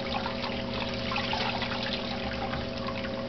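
Water trickles and dribbles as a soaked piece of turtle tank filter insulation is squeezed out over the tank, making a faint, continuous splashing with no voices.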